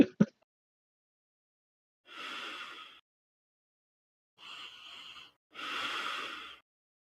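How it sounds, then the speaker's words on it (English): Three separate bursts of heavy breathing close to a microphone, breath pushed through the mouth in airy huffs of about a second each. A brief sharp knock or pop comes at the very start, with no talking. "Who's mouth breathing into the mic?"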